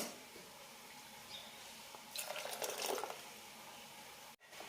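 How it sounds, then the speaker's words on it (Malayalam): Water poured into a pot of moru curry made with Chinese potato (koorka) and curd, a brief splashing pour rising over about a second, close and moderately loud amid quiet kitchen background. "ഇനി ഇതിലേക്ക് കുറച്ച് വെള്ളം കൂടി ചേർക്കാം"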